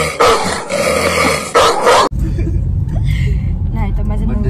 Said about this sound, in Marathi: कुत्रा आहे तो माझ्या, ती लगेच भुकतो